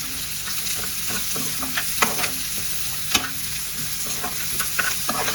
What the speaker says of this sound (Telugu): ఇప్పుడు దీన్ని మంచిగా వేయించుకోండి